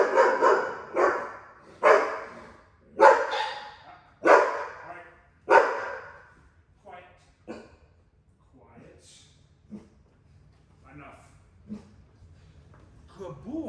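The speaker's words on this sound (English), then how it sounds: "Now I'm gonna get her to bark." A dog barks in a series of sharp, loud barks at a steady rhythm, then tapers into softer, sparser yips and whimpers with quiet pauses between them.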